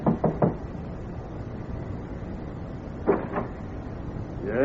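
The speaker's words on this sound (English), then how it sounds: "and then knocks" Knocking on a door as a sound effect in an old radio drama: a quick group of three knocks at the start, then two more a few seconds later, close and fairly loud over a steady low background hiss.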